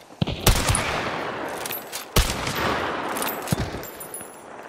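Gunfire in a shooter video game: several sharp, loud bursts of shots, with quieter rattling fire and a hissy background between them.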